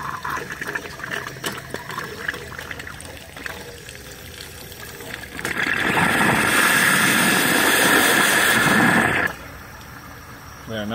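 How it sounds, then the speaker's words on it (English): A steam boiler injector on a trailer-mounted steam engine kicks in with a loud, steady hissing, watery rush for about four seconds, then cuts off. Quieter mechanical sounds come before and after it. "You hear the injector working?"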